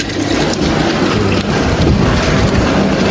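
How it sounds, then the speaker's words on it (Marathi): Water overflows from a filled 20-litre can in a village setting, making a loud, steady rush and splash that runs without pause, with no talking. "बघू शकता पाणी आता फुल भरून खाली वाया चाललंय"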